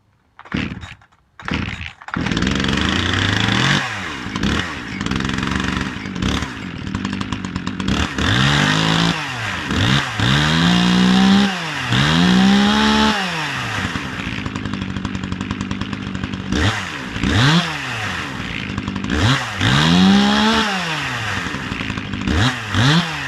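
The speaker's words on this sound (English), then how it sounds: "let's start it up and see how it runs" A Dolmar chainsaw engine runs after a carburetor cleaning, starting with a few sputters, then idling roughly and revving up and down repeatedly in loud, close rising-and-falling surges.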